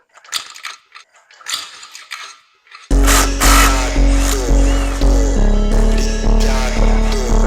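Close, loud clicking of a torque wrench ratchet in steady repeated pulls while tightening engine bolts on a YFZ450 ATV, preceded by softer handling of parts and tools.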